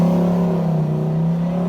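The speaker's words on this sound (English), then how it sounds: "I hear you like keeping the RPM high." Twin-turbo 1800 whp Dodge Viper ACR at a racetrack, its engine held at high RPM to warm a carbon multi-disc clutch, giving a loud, steady droning roar with a strong low tone and no let-up.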